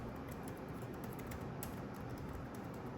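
Typing on a Keychron B6 Pro mechanical keyboard, a steady stream of quick, close keystrokes clattering continuously throughout with no voices.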